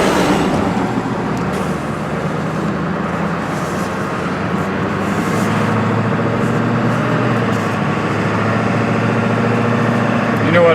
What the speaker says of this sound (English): it's a big, noisy diesel